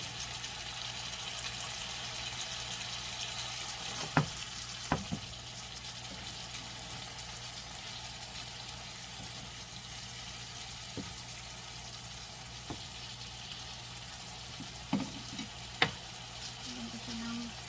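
Oil sizzles steadily in a pan while eggs cook for egg sarsa (sarciadong itlog), a constant soft frying hiss broken by a few sharp utensil clicks.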